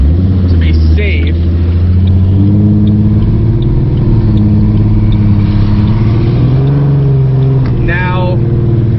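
A Ford Mustang 4.0 V6 with an idle chop mod runs on the road, a loud continuous engine drone with a slight rise in pitch partway through, while someone speaks briefly over it.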